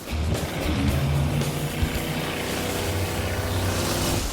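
Cars spinning donuts through water give a steady, loud engine and motor drone with churning splash noise, continuous throughout with no talking.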